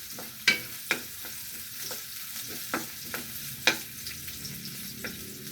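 Purple onion stirred and frying in a pan, a steady soft sizzle broken by sharp scraping knocks of the spoon against the pan at irregular moments, close by with no talking.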